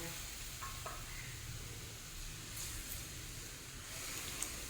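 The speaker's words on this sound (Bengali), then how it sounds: "এখন মশলার সঙ্গে সমস্ত কিছু একটু ভালোভাবে জলের সঙ্গে মিশিয়ে দেব।" Chana dal and chicken curry stirred with added water in a pan, a steady wet scraping and faint simmering sizzle running evenly throughout, close and fairly quiet, with no talking.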